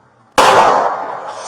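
A single gunshot during a police shootout with an armed man in a house: one sudden loud sharp bang after near silence, trailing into a short fading echo.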